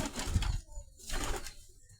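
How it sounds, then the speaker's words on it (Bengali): Two soft, low coos from white domestic pigeons kept at home, each a short throaty phrase separated by a brief pause, heard close and fairly quiet without talk. "তো আমি আরও দু একটি সাদা কবুতর দেখাই"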